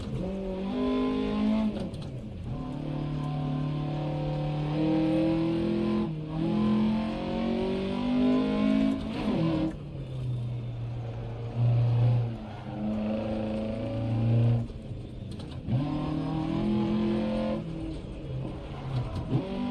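Rally car engine in Dirt Rally 2.0, loud and continuous, revving up through the gears with repeated gear-change dips and a lower bogging stretch midway, no voices.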